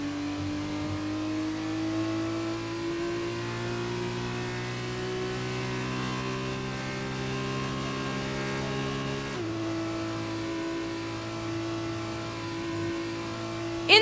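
Formula 2 race cars in a sim racing game sprint race at the Russia round, engines droning steadily at a sustained high pitch throughout, several cars layered together with a brief shift partway through, no talk.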